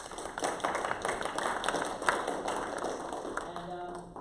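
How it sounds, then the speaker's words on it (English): Scattered clapping from a small audience at a city technology commission meeting, moderately faint and fairly steady, with a few voices mixed in toward the end. "let's give Steven a big round of applause."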